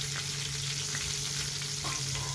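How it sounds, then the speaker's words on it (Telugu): Mustard seeds and cumin fry in oil for a stuffed brinjal masala curry, giving a steady close sizzle with small crackles and pops throughout. "ఇప్పుడు అదే ఆయిల్లోనే కొంచెం ఆవాలు, కొంచెం జీలకర్ర వేసి వేయించుకోవాలండి."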